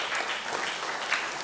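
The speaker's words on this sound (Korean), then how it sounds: "다시 한 번 더 박수합니다." Congregation applauding during a Sunday church service in Auckland appointing officers and ministry workers, steady dense clapping throughout at a moderate, even level.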